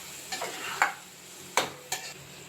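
Boiled, blended spinach being stirred into a curry in a pot, a low simmering hiss broken by four sharp scrapes and taps of the spoon, with no voices.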